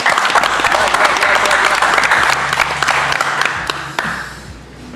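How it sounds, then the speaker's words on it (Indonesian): Audience applause at a Marapthon livestream event in Depok, a dense steady wash of clapping that swells and then thins toward the end, with some crowd chatter mixed in. "Ayo tepuk tangan kali"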